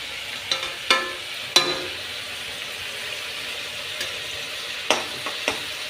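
Garlic and chili tempering frying in mustard oil, a steady soft sizzle with several sharp spits and crackles scattered throughout, heard close with no talking.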